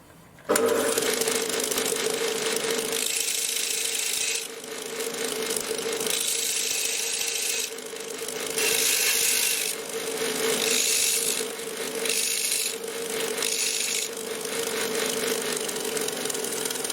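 Belt sander cleaning up small wooden fascia pieces in a garage workshop, a steady loud motor whine broken by repeated rising and falling grinding passes as each piece is pressed to the belt, with no talk.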